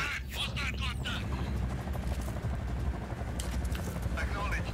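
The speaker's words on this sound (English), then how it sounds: "Helicopter inbound." A video game helicopter arrives with a dense, continuous rotor thump and roar that stays loud and steady throughout, while game voices or radio chatter sound over it.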